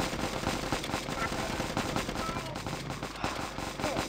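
A Kalashnikov assault rifle fires in a zombie defense video game, with rapid, continuous automatic bursts of gunfire over a dense, noisy game soundtrack.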